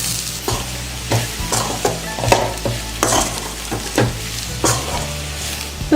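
Potatoes stirred into spiced masala in a pan for potato bonda, a steady sizzle broken by repeated scraping strokes of a spoon, close and fairly loud with no talking.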